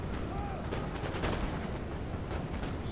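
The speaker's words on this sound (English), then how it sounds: "Oh, my chasseurs fired." A musket volley fired by chasseurs in a Napoleonic battle video game, a dull rolling crackle of distant gunfire spread over a few seconds beneath steady low battlefield rumble.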